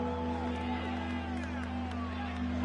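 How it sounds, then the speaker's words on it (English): A football stadium crowd roars on a third-and-long play, a steady, loud wash of cheering that fills the space without letting up, with a broadcast hum beneath it. "This crowd turning up the decibel level."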